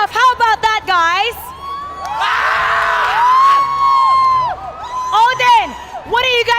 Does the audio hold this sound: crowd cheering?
yes